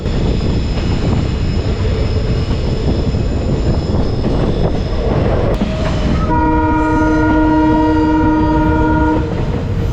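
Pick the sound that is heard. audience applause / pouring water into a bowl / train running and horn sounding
train running and horn sounding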